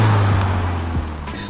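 A 2021 Subaru Crosstrek with an aftermarket axle-back exhaust and muffler accelerates. A low exhaust drone rises briefly and close for about a second and a half.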